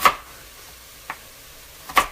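Knife chopping sweet potatoes on a cutting board for a vegan black bean chili, heard as three sharp, separate cuts spaced roughly a second apart, fairly close and clear with no talking.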